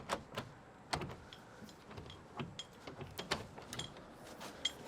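Mechanical clicks and clunks of a Schüco triple-pane tilt and turn window being tilted open during installation, a quick series of sharp near taps and latch snaps over a quiet background.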